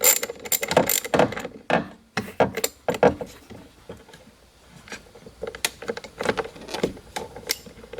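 A T20 Torx bit works screws loose inside a 2012 BMW E93 convertible's electric glove box, giving close, irregular clicks and ratcheting rattles in uneven bursts with brief quiet gaps.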